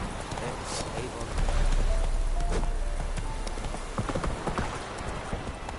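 Horse hooves gallop in The Witcher 3 video game, a steady rhythmic clip-clop under game music and ambience, with someone speaking over it.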